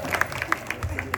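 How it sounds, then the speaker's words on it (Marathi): An audience at a kirtan performance in Dombivli claps briefly after being asked to applaud a young instrumentalist, giving scattered, uneven claps over a low murmur, short and fairly soft. "जरा टाळ्या तरी वाजवा."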